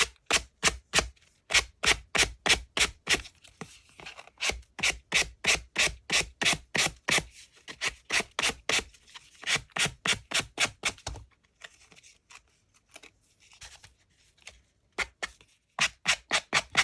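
Paper pocket edges on a sewing-theme junk journal being sanded by hand: rapid, rhythmic rasping strokes in quick bursts, close and crisp, pausing briefly near the end before resuming.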